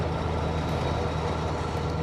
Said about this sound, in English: She plays a sweet tune, this old truck,